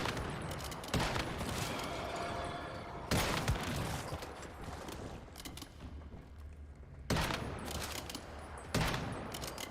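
Gunfire in the Once Human video game crackles out in loud bursts, several dense volleys broken by short lulls.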